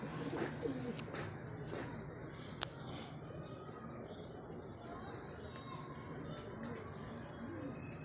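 A breeder pigeon coos faintly in a quiet setting, giving soft low repeated calls with a few brief clicks and rustles around them.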